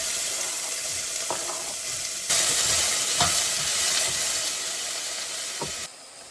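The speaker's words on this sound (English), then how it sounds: "I put a little bit of olive oil in the pan, and then I put the diced onions in here, and then I just basically cook them until they're soft." Diced onions sizzle and fry steadily in olive oil in a pot, a constant close hiss with occasional stirring scrapes, rising louder midway and dropping off near the end.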